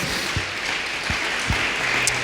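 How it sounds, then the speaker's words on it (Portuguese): Church congregation applauding in praise during a Portuguese-language service, a continuous patter of clapping with a few louder thumps scattered through it, no voices rising above. "Pode aplaudir ao Senhor,"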